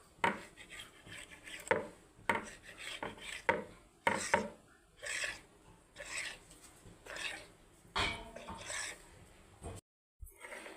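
Rolled wheat dough for godhuma biscuits being cut into small pieces with a knife, a series of short, sharp strokes and scrapes against the board at an irregular rhythm, close and fairly soft.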